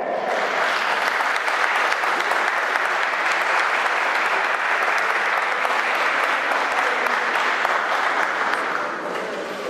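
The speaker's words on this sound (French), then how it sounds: "Merci à vous, applaudissez très fort." Sustained, even applause from a conference audience in Paris carries on for nearly ten seconds, full and continuous with no talk over it.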